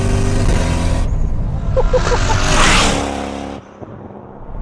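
Turbocharged 3UZ V8 in a Lexus GS pulls hard through the gears, a loud, rising engine roar swelling to a peak before the throttle lifts and it drops to a lower rumble, with a brief exclamation over it.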